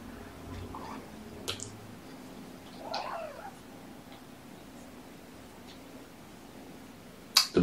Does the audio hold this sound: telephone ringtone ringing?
no